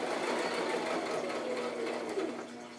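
A sewing machine back stitches on a handmade handbag, a steady close mechanical whir running throughout at a slow pace.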